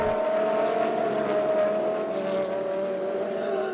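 A Ferrari 458 leading an Audi R8 in a race, a loud sustained engine roar with steady high revs that shift slightly in pitch as the cars race on, heard close.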